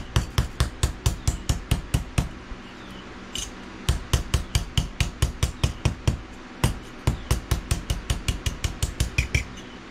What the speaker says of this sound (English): This little hammer right here would have worked just fine.